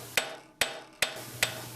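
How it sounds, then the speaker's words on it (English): A blacksmith's hammer forging a steel spring on an anvil, five sharp, evenly spaced ringing blows close by, each decaying quickly, with no talk. "as you start to get closer to the final shape of the spring, you really need to slow down and concentrate on your hammer work"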